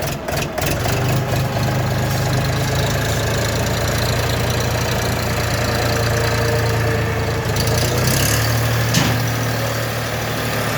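Small tractor engine running steadily at close range with its front axle engaged, a continuous low idling rumble with slight knocking throughout, no speech.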